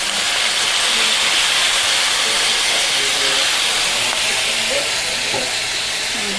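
Beef, onion and garlic sizzle steadily in a hot pan as soy sauce is poured in, a continuous loud hiss with no talking over it.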